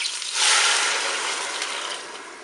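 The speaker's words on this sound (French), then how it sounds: "Je vais verser mon bouillon." Beef broth pours into a Cookeo multicooker pot as a smooth, close, steady splashing hiss that swells at the start and then eases slightly as the pour continues.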